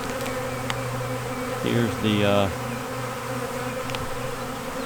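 Honeybees from a hive holding three or four frames buzz steadily close by, with a louder burst of droning wingbeats partway through and a brief spoken phrase near the start.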